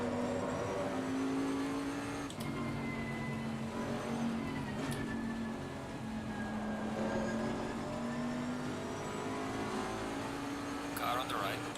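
GT4 race car engines in Assetto Corsa Competizione at Laguna Seca in the rain, droning steadily at a low pitch with gradual rises and falls, loud and continuous, with a driver talking over them.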